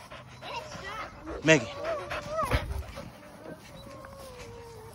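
A dog yips and barks a couple of times with a whimpery edge, close by, while a person talks over it.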